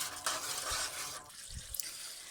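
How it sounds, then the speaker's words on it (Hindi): Chicken karahi is stir-fried with black pepper and green chilies, giving a close, moderate sizzle with a couple of soft stirring knocks and scrapes. "अब हम इसकी अच्छी तरह से भुनाई करेंगे"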